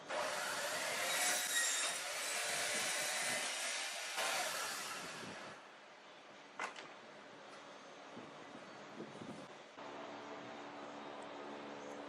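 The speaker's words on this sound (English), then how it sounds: "Now I'm going to cut off the triangular pieces that I've marked off." A handsaw cutting triangular pieces off plywood, rasping strokes loud and close for several seconds, then quieter scraping and a few knocks as the cut finishes.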